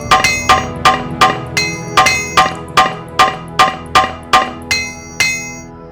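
A repair hammer strikes a Nordic Silver Claw in Morrowind, about fourteen sharp metallic clangs in an even, rapid rhythm, each ringing briefly, loud and close with no talking.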